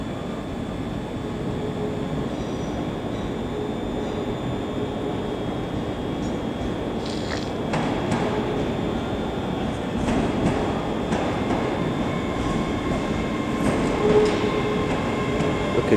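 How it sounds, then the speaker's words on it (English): A Scotrail Class 385 electric train pulls into Glasgow Central station, a steady loud rumble of wheels and motors with faint clicks and squeals over sixteen seconds. "now incoming is a Scotrail Class"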